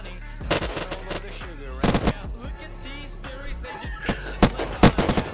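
Gunshots in the survival game Unturned, a run of sharp, loud cracks in irregular clusters with a continuous background of game noise and music, no one talking over them.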